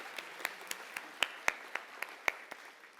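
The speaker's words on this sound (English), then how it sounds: "Let's clap ourselves for coming here this early in the morning." Sparse, slow clapping from a conference audience early in the morning, a dozen distinct hand claps at an uneven rhythm over a quiet room, fairly faint.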